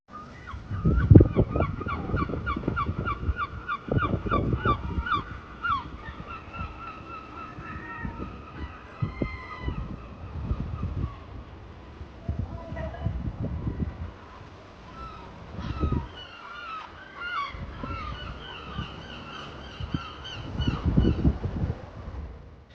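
Seabirds call repeatedly near the sea at the ruins of St Andrews cathedral in Scotland, loud honking cries in irregular bursts over a low, rumbling surf-and-wind background.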